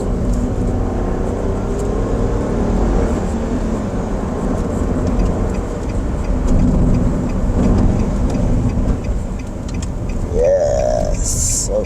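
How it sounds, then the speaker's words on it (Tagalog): A 2023 Nissan Almera EL Turbo with a manual gearbox, engine droning steadily while driving, heard from inside the cabin as a constant low rumble mixed with road noise, plus a brief higher whine near the end. "Sana napipick up ng microphone yung engine sound"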